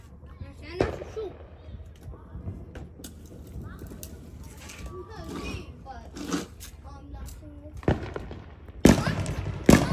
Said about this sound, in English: Get your fireworks.